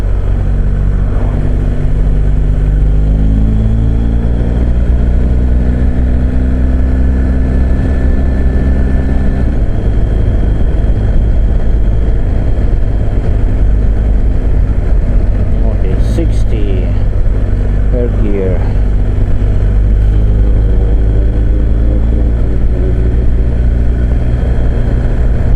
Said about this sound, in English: Does sound like airplane actually, this engine.